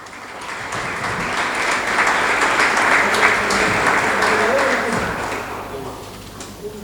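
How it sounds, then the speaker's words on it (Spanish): Sustained applause from an audience welcoming speakers at a sports management, law and marketing panel, a dense, steady clatter of many hands that swells and then tapers over several seconds. "Por favor, un fuerte aplauso."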